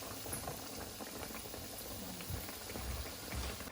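Battered masala fish dropped into hot oil, giving a steady, close bubbling hiss with faint crackling pops throughout, no voices.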